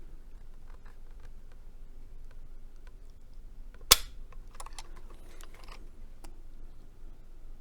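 A Ruger Single Six revolver's hammer drops as its trigger is pulled with a trigger pull gauge, one sharp metallic snap amid soft handling clicks and faint ticks, quiet and close.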